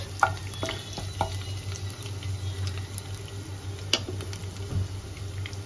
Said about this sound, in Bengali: রসুনটা তেলের মধ্যে দিয়ে দিয়েছি। এবার একটু নাড়াচাড়া করে নেব।